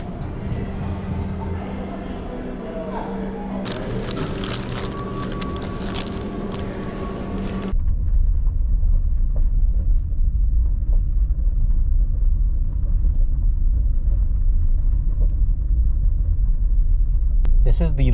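A car drives a long gravel road, its low, dense rumble of tires and engine suddenly swelling louder and steady after an earlier, quieter stretch of cabin sound, continuing unbroken to the end.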